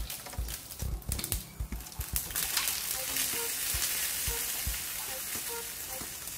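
Mustard seeds and fenugreek crackle and splatter in hot tempering oil, starting with a burst of sharp pops that settles into a steady, close sizzle.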